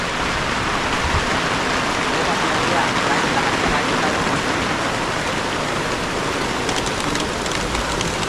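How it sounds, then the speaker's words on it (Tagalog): Steady rain pouring onto open farmland, a dense, continuous roar of drops that stays loud and even throughout with no voices over it. "Yan, bumagsak na yung ulan."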